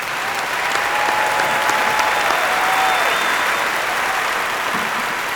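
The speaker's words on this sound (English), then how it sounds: "So please join me in a round of applause for them." Steady, dense audience applause fills a commencement ceremony hall, holding loud and even throughout with a faint crowd murmur and no clear talk.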